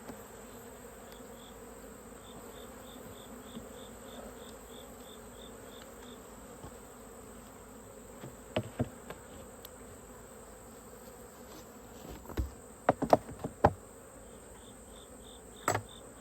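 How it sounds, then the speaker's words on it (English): Robber bees buzz around an open beehive during a late-summer robbing frenzy, a steady faint insect hum with a few louder close passes near the end, no talking. "Robber bees are coming."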